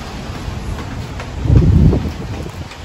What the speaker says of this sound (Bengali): এত জোরে জোরে বাতাস